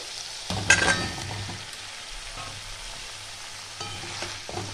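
Bottle gourd pieces dropped into fried spices for lau dum, a burst of sizzle and clatter as they hit the pan, then a soft steady frying hiss with occasional stirring scrapes.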